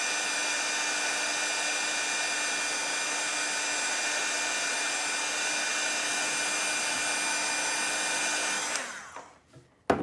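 A hot air dryer blows steadily on stencil paint on an address sign board, a loud, continuous whirring hiss close by that cuts off abruptly near the end, leaving a few faint knocks.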